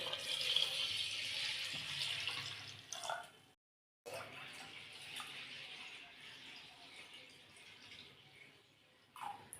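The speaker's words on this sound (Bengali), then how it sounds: "জল দিয়ে দেব।" Water splashes into a pressure cooker of chicken khichuri already seasoned with turmeric and salt, a steady close pour with a brief pause partway through before it resumes.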